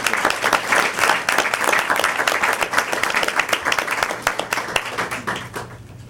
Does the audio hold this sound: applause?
yes